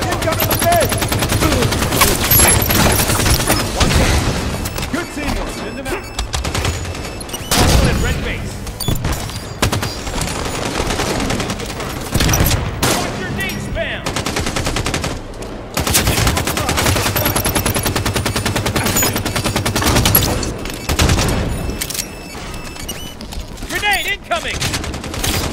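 Dense rapid gunfire and booming blasts fill a Halo 5: Guardians multiplayer beta match, loud bursts overlapping almost without pause, with a voice talking over the action.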